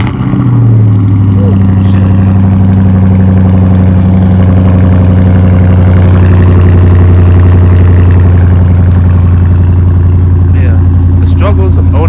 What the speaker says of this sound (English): let's go ahead and do a little cold start